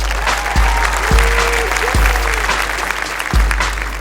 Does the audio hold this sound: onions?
no